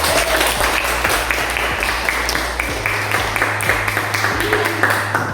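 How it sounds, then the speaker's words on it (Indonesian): Schoolchildren in a classroom clap their hands together loudly, a dense, slightly uneven patter of many small hands close by, with a faint voice underneath. "Tepuk tangan dulu."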